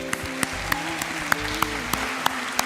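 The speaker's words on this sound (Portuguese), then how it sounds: "Vamos dar um aplauso para Jesus." A church congregation claps for Jesus, steady applause with a few sharper individual claps standing out above the crowd.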